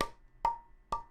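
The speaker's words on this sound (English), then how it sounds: "the first one is actually me hitting a flask, like a metal drinking flask." A metal drinking flask is struck three times at an even pace, each close, sharp hit ringing briefly with a bright metallic tone before dying away.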